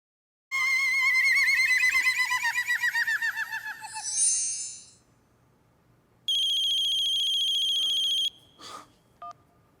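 A mobile phone rings for an incoming call, a loud warbling chirpy ringtone followed by a second steady electronic ring burst and a brief click.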